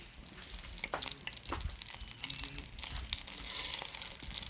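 Coconut oil heats in a pan for a tempering, with a soft crackling fry and occasional scraping stirs at low level.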